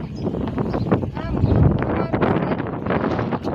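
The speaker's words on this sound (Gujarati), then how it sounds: "અમારે વાડીની નજીક હાવ પવન છે." Steady wind buffeting the microphone outdoors near a farm, a broad rushing roar with gusty surges throughout.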